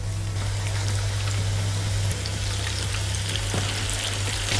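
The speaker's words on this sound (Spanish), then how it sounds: "con el aceite bien caliente se fríen las albóndigas" Meatballs fry in plenty of hot oil in a skillet, giving a dense, steady crackling sizzle over a low hum, close and continuous, with no talking.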